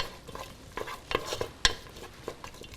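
Chopped onions sautéing over medium heat in a pan for a ground beef and peas dish, a soft steady sizzle broken by a few sharp clicks and scrapes of stirring, close and fairly quiet, with no talking.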